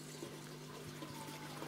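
Water drains and trickles through the siphon of an IBC aquaponics system, a faint steady gurgling flow with a low pump hum underneath.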